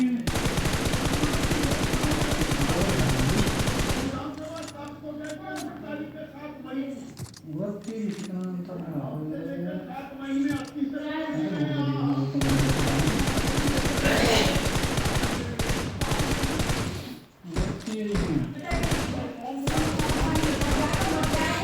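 Gunfire in the battle royale video game PUBG comes in loud rapid bursts of automatic shots, heard over and between players talking excitedly in a squad.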